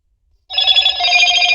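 A telephone bell rings loudly during a lecture, starting abruptly after a moment of silence and continuing steadily with a bright, trilling tone.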